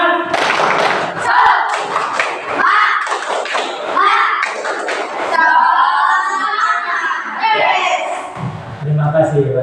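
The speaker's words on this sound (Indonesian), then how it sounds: "Tepuk semangat." Schoolchildren in a classroom perform a rhythmic spirit clap, sharp patterned bursts of claps alternating with loud group chanting and a teacher's voice, all close and lively.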